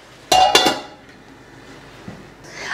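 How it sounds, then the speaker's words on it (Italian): A metal lid is set onto a pot of cooking pasta with shrimp, artichokes and cherry tomatoes, making two or three quick, bright clanks close up, followed by a quiet stretch. "Adesso copriamo e lasciamo cuocere ancora per qualche minuto."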